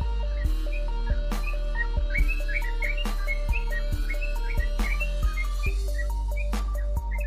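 A yellow-vented bulbul (trucukan) gives quick bubbly chirps and short whistled phrases close by, over a steady low hum and some sharp clicks, with no one speaking.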